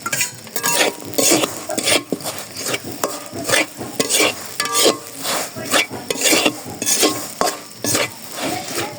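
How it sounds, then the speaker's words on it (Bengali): Rice flour is dry-fried in a pan and stirred with a utensil, making a steady rhythmic scraping and rasping with light sizzle, repeated strokes at a brisk even pace, close and clear without speech. "এই চালের গুঁড়াটা ভাজতে হবে"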